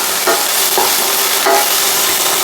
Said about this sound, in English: We need to move them around a little bit in the pot.